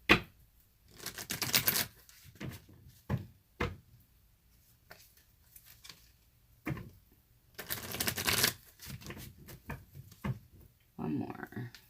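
Tarot deck being shuffled, with crisp riffling bursts and taps recurring between quieter stretches, under occasional speech.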